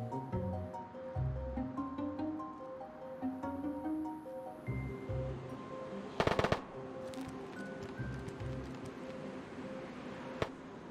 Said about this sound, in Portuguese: o tiro foi bem na minha esquerda aqui